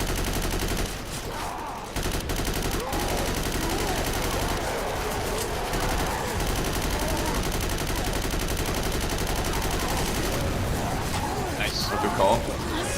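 Rifle fire in a survival shooter video game comes as dense, continuous bursts of shots that fill the whole stretch loudly, with a voice talking over the gunfire.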